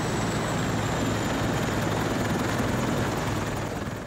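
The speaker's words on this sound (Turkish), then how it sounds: "17 kişi tek tek helikoptere alınarak mahsur kaldıkları yerden tahliye edildi." A rescue helicopter lifts stranded people one by one during a flood evacuation after extreme rainfall in Samsun, its rotor and engine roaring in a steady, loud, continuous wash with no voices.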